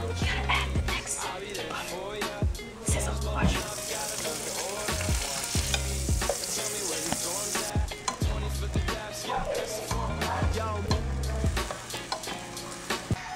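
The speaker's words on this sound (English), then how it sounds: "it's going to sizzle this time" Butter sizzling and frying in a hot pan, a steady loud hiss throughout with stirring clatter and scraping on top, close and continuous.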